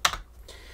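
A single close, crisp key clack on an old Amiga computer keyboard, followed by quiet room hiss.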